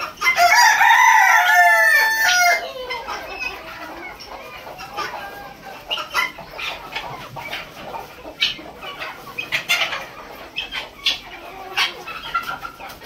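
Hens eating grass sound off loudly at first with a rooster-like crow and clucking for about two seconds, then fainter scattered clucks and pecking noises follow against a quiet yard.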